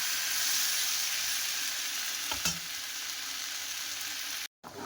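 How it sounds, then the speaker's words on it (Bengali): Potato curry being fried and stirred in a pan, a steady bright sizzle throughout with one brief stirring scrape midway and a short drop to silence near the end, close and fairly loud, no talking. "এবারে ভালো করে কষিয়ে নেবো।"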